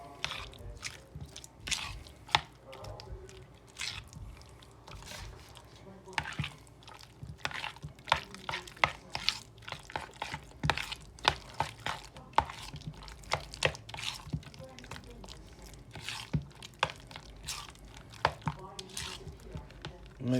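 A spoon works parsley through a lasagna filling, producing soft wet squishing and scraping sounds in irregular bursts, moderately close, with occasional sharper taps against the bowl.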